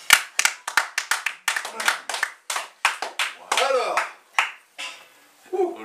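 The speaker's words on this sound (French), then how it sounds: "Vous pouvez aussi l'applaudir" A small theatre audience applauds a performer with a run of crisp, distinct claps from a few pairs of hands, uneven and close, with a voice speaking briefly in the middle.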